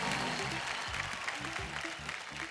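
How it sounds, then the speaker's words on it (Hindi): Studio audience applause on a Hindi TV game show, a steady wash of clapping over a thumping, bass-heavy music track throughout. "एक बार जोरदार तालियां हो जाए।"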